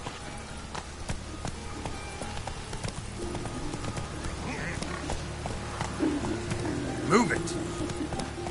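Horse hooves clip-clop in a steady galloping rhythm through The Witcher 3 video game, close and continuous, with a voice talking over them and brief snorts near the end.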